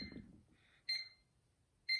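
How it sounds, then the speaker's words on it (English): A cartoon alarm clock goes off with two short, bright electronic beeps about a second apart, quiet and alone after a soft rustle. "That is the sound of your alarm clock."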